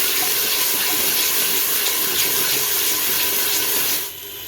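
Water is poured into a cooking pot in a steady, continuous hissing stream for about four seconds, then cuts off abruptly near the end.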